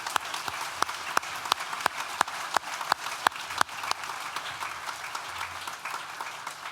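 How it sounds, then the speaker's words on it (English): Graduation ceremony audience at a university art and design school applauds graduates, a moderately loud bed of crowd clapping with several sharp nearby hand claps standing out, tapering toward the end. "join me now in another round of applause for all the people who are graduating today"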